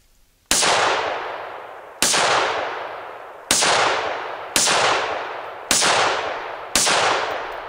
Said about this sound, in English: we'll fire a full magazine 50 rounds to see if it'll actually eat through the concrete and reduce it